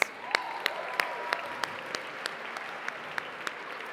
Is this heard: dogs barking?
no